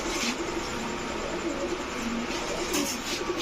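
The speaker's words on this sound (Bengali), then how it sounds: "এটা হচ্ছে মুজোওয়ালা একটা জোড়া।" A pair of large white muffed pigeons, feather-footed, a male and his female, coo softly and steadily under a constant broadband background hum.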